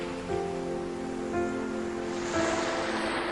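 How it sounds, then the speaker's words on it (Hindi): Steady wash of ocean surf, a continuous rushing roar with gentle swells, heard alone without any voices. "समुद्र की आवाज"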